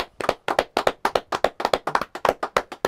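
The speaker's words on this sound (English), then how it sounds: "Can I get a round of applause?" A small group of people claps along at a podcast recording, roughly twenty sharp, evenly spaced handclaps in a steady rhythm, close and dry, with no talking.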